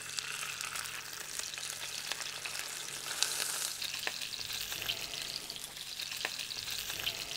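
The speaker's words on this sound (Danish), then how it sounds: "Så hovedsageligt på skindsiden bliver det stegt." Salmon fries skin side down in hot oil on a Ztove, giving a steady, close sizzle with scattered sharp crackles and pops and no voices.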